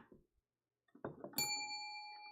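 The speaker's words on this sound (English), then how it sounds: "If you collect brass bells" A heavy vintage brass bell is struck once after some faint handling, its clear ring lingering and slowly fading.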